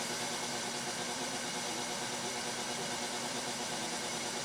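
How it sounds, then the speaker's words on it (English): A motor driven by a Warner Electric SE2105 DC drive runs steadily, a dense constant hum and whir with slight vibration, close and continuous without change or talk. "It's running that motor real good."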